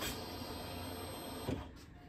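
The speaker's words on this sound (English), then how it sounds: "So you can hear it there. It's priming up the fuel pump." Fuel pump of a 2006 Pontiac G6 priming as the key is cycled, a steady faint electric hum and whir that cuts off near the end of a brief stretch, with no talking.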